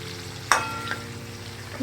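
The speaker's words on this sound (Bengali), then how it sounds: "এটাকে একটু ভেজে নিচ্ছি" Young jackfruit, boiled with turmeric and salt, frying in a pan on a home kitchen stove, with a low steady sizzle, a sharp clatter near the middle and a softer knock later.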